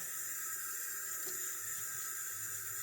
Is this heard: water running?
yes